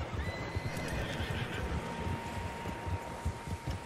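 Horses whinnying over a bed of hoofbeats and outdoor ambience in the video game Red Dead Redemption 2, steady and moderately loud, with no voices.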